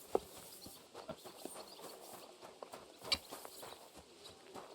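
Faint horse hoofbeats in the video game Kingdom Come: Deliverance II clop along at an uneven walking pace over quiet ambient noise, with a few sharper knocks standing out.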